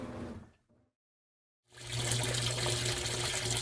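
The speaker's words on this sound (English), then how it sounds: "The lid locks and the washer begins the wash portion of the cycle." Maytag top-load washer filling with water, a steady loud rushing flow that starts after a brief silence and continues evenly, close by and with no talk.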